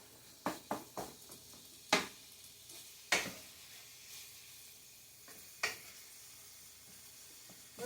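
Italian sausage browning in a pan for lasagna gives a soft, steady sizzle broken by several sharp scrapes and stirring knocks at irregular intervals, fairly quiet and with no one talking.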